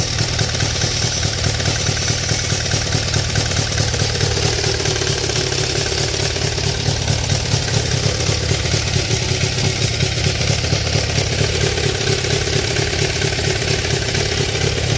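A Daihatsu Fellowmax two-stroke car engine with a modified exhaust idles steadily, its rapid, buzzy, crackling putter close and loud, motorcycle-like, holding an even rhythm throughout without revving.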